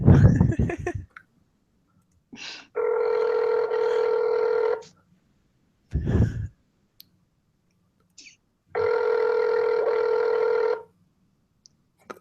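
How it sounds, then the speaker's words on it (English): A telephone ringback tone during a prank call to a GameStop store: two long ring bursts separated by a pause, clear and prominent, with brief clicks and handling noises between them. "Answer damn phone."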